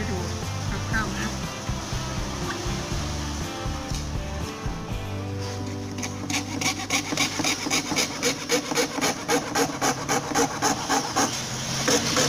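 A hand saw cutting along a drawn line, starting slow and uneven, then settling into fast regular back-and-forth strokes, close and fairly loud with a rasping tone.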